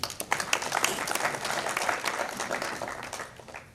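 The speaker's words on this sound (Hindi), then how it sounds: "ताली इसी पे बजनी थी।" Audience applause at a newspaper launch ceremony in Bhilwara, a dense burst of many hands clapping that swells quickly and stays steady before easing off toward the end.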